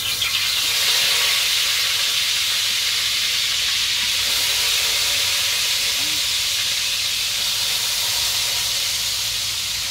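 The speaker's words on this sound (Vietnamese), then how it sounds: "một bà xã mình á thì xào chuột. Còn mình á thì chiên chuột nha các bạn" Rat meat frying and stir-frying in a hot pan with garlic gives a steady, loud broadband hiss and sizzle that stays even and close throughout.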